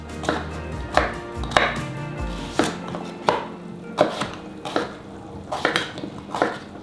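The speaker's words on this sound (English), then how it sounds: "So I'm just going to chop this into bite-sized chunks." A knife chops sweet potato into bite-sized chunks on a board, a run of crisp, close, uneven cuts with no talking.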